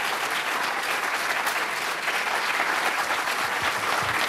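A packed crowd gives lawyer David Boies a standing ovation after the Prop 8 ruling, with dense, loud, continuous clapping and a few cheers throughout.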